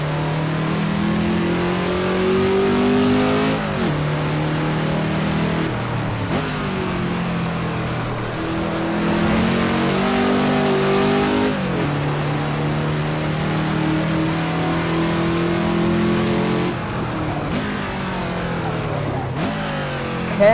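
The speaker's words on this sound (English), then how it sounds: "Can't really get over how bad this engine sounds." A race car engine in a racing video game, a Ford GT40 or Ferrari 330 P4 at Laguna Seca, revs repeatedly, climbing through gears with sharp shifts every few seconds, with a voice speaking over it at times.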